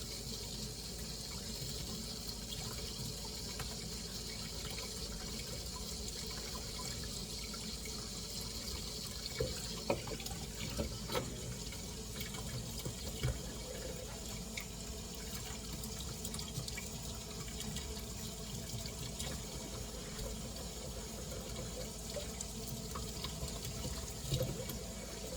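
A kitchen tap runs steadily into a sink during washing, a quiet continuous hiss of water with occasional small clinks and splashes, no voices.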